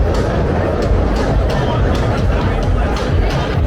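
A young, college-age crowd fills a bar in Chicago's Fulton Market, producing a dense, continuous babble of overlapping voices and chatter that stays loud throughout, with no single speaker standing out.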